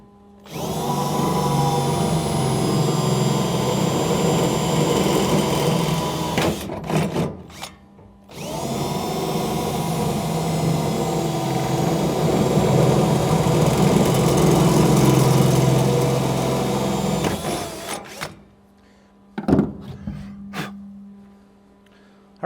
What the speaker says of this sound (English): we're going to drill the 2 holes into the side of the bed rail